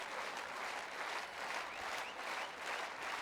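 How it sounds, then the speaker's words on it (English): A stadium crowd at a beach volleyball match in Prague claps steadily and loudly, a continuous wash of applause with slight swells throughout. "The crowd really getting into it now."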